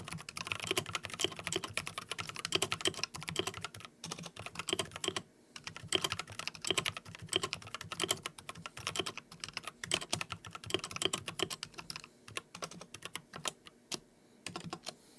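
Steady typing on a Matrix compact gaming keyboard, a continuous run of quick clacky keystrokes with a few brief pauses, close and alone with no talk.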